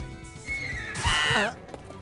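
A horse neighs in an animated scene, a shrill, wavering whinny rising and falling for about a second over background noise.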